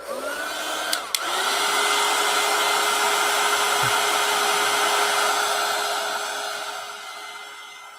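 A hair dryer blows steadily on damp mixed media artwork, starting with a couple of clicks, then a strong, even whirring hum with a clear tone that holds for several seconds before easing slightly at the end.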